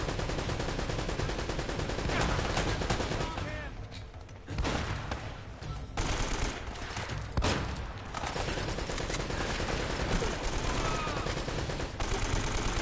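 Dense, sustained gunfire in Uncharted: Drake's Fortune, a pistol among the shooting, crackling almost nonstop across the clip with brief lulls and loud bursts, busy game audio throughout.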